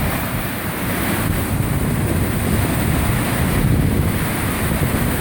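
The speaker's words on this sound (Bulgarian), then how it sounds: "Това е водата, която се излива в момента." Rushing water spills out at the Lopushna hydro power plant intake during spring high water with snowmelt, a steady loud broadband roar with wind buffeting the microphone, no voices.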